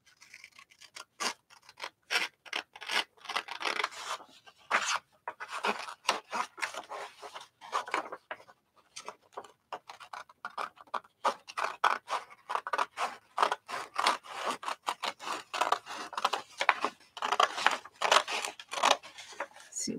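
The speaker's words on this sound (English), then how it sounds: "Let's go ahead and cut it along the edge here." Scissors snip repeatedly along the edge of a journal's clasp area, a long run of close, crisp rhythmic cuts and scraping blade strokes through paper or card, with brief pauses between bursts.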